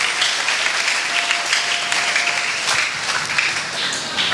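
Church congregation applauding together, a dense steady wash of clapping hands that carries evenly through the whole stretch without a break.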